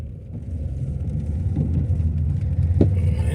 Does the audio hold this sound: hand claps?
no